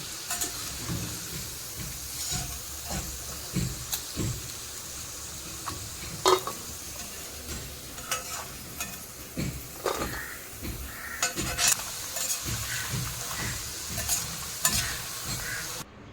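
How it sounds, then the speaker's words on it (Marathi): Sago papads for a fasting-day snack frying in hot oil, with steady crackling sizzle and scattered sharp clicks and scrapes of a utensil against the pan, moderately close and continuous throughout. "हे बघा मी तेलामध्ये चांगले फ्राय करून घेतलेले आहे"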